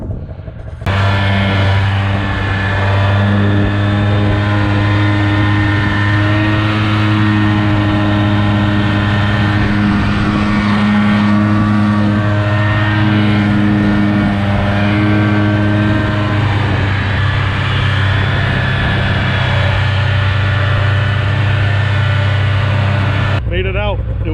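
A snowmobile drives across a snowy lake through soft, deep powder in drifted snow, its engine droning loud and steady close by with shifting revs throughout, a voice occasionally speaking over it.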